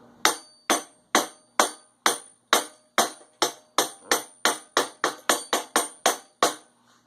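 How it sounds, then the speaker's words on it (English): A hammer taps a key into a pulley keyway on a DR chipper/shredder, working through a small block of wood: about eighteen sharp, ringing metallic strikes, steady at first, then quickening, close and clear with no talk. "I'm going to have to tap that in lightly with a hammer"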